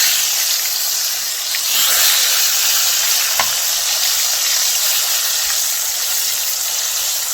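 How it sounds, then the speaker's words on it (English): Chicken 65 steak fries in a pan with a steady, close hiss and crackle of oil that holds through the whole stretch, broken only by a few faint clicks. Nobody talks. "We're going to fry this for around 2 to 3 minutes."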